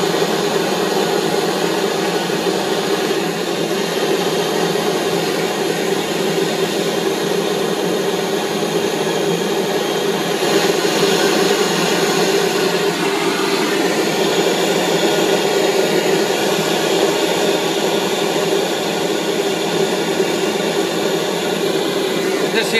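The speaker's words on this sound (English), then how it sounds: "the next operation will be to silver solder all the way around the joint here." Steady roaring torch flame while silver soldering around the joint of a two-piece silver cow creamer body, a continuous loud broadband hiss with no talk.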